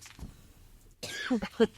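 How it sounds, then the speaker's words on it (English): A single cough bursts out near the end, preceded by quiet shuffling and a faint voice in the background. "She's going to cough."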